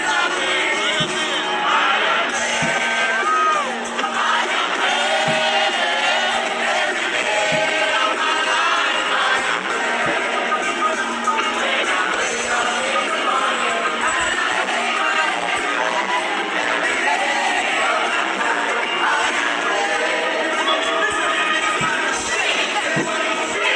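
Mature audience at an orchestra concert at the Barbican reacting to songs, a dense sustained roar of crowd noise with shouts and whoops blended together, loud and continuous for the whole stretch.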